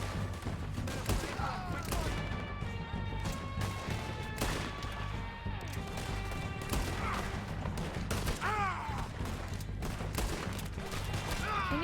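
Gunshots in the video game Red Dead Redemption 2, a steady fusillade of sharp cracks and crashes over roughly twelve seconds, moderately distant and layered with game ambience and faint voices.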